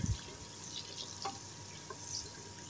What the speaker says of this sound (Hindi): प्याज को ब्राउन करेंगे, चम्मच चलाते रहेंगे।